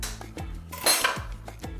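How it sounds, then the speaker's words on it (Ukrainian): Glass and metal clinks ring out in a quiet kitchen, a sharp tap of an egg against a bowl rim followed by a soft splat as it is cracked in. "Яйце. Ми його розіб'ємо акуратненько."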